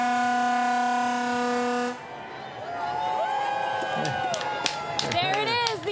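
A loud, sustained horn blast signals the start of the Findlay Market Opening Day Parade in Cincinnati, then cuts off as a crowd cheers and whoops, with a voice speaking over the noise and sharp whistles.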